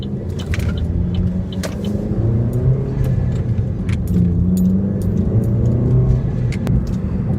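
A Sonic car pulling away, with a steady, loud, close engine rumble and road drone throughout, plus light scattered clicks and rattles on top.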